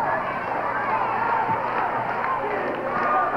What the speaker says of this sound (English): this crowd is absolutely on fire